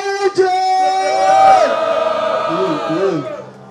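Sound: crowd cheering and shouting at a rap battle

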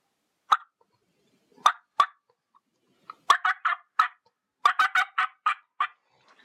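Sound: diaphragm turkey call imitating turkey sounds

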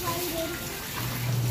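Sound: child bathing in a plastic basin, water splashing

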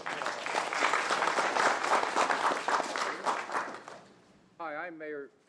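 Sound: audience round of applause

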